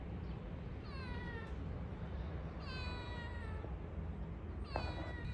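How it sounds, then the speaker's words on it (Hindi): A cat meows three times, each cry drawn-out and rising then falling, spaced a couple of seconds apart over a low background hum. "ये बिल्ली कब से मियाऊ मियाऊ कर रही है"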